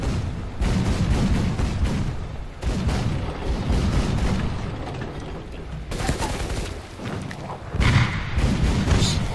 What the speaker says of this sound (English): Just waiting down, he drops artillery